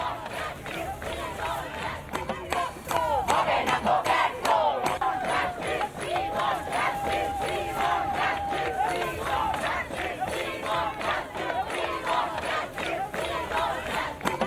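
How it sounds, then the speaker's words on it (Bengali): Street protest crowd at night demanding justice, a dense mass of voices chanting slogans and shouting in rhythmic, sustained waves, loud and close, with a single voice holding a long note in the middle. "দেখতেই পাচ্ছেন সেখানেও পর্যন্ত স্লোগান চলেছে শাউটিং চলেছে"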